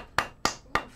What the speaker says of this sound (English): I'm never sure what orientation the chisel is supposed to be in, because a lot of times when you're cutting